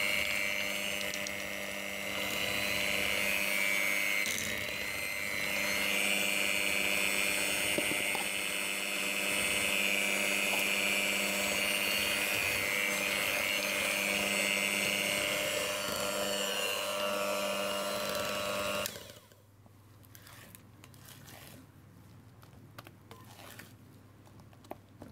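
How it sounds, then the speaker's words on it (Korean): An electric hand mixer whirs loudly and steadily as it beats cream cheese in a bowl, its motor hum wavering slightly as the beaters work, then stops, leaving quieter scraping and handling sounds. "볼에 크림치즈를 넣어서 휘핑기를 이용해 부드럽게 풀어주세요."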